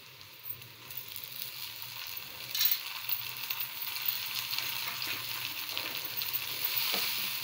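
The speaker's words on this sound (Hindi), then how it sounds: "अब इसमें हम ऐड करेंगे टमाटर।" Tomatoes hit browned onions frying in hot oil in a pan, giving a soft, steady sizzle with faint stirring and crackle throughout, close and quiet.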